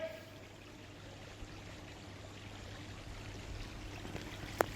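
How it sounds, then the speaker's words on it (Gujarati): Water overflowing from a tank in Mayani Nagar, Rajkot, runs onto the road in a soft, steady rushing stream, faint and continuous beneath a low hum, with a sharp click near the end. "આ પુષ્કળ પ્રમાણમાં પાણી જઈ રહ્યું છે"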